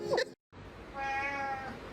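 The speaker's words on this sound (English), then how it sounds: "He woke up, made his point, and went back to sleep. Respect, cat." A cat gives one drawn-out, moderately loud meow close by after a brief silence, with no talking over it.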